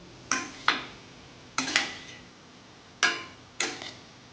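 Spoon scraping and knocking against a pan while stirring masala tindora sabzi: three pairs of sharp metallic clinks, close and evenly spaced with quiet gaps between them, and no talking.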